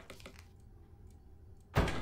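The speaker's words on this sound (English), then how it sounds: "Doors closing behind themselves." In the Alone in the Dark video game, a door swings shut by itself. After a few faint knocks and near-silence, it ends in a single loud, close thud.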